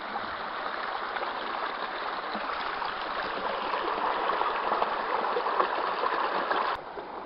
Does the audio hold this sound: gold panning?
yes